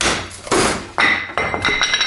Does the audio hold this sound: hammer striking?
yes